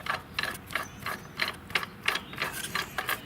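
Coil spring compressor being screwed down on a car's front coil spring, a close, quick series of ratcheting clicks repeating at a brisk even pace with no talk.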